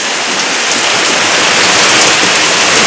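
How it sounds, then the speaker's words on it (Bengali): Heavy rain falls in a dense, loud, unbroken hiss, steady from start to finish. "সেই যে বৃষ্টি পড়ছে।"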